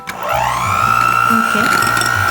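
A hand mixer whips Swiss meringue for macarons, a steady high motor whine that bends in pitch as the beaters move through the stiff glossy whites, continuous and close.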